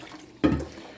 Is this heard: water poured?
yes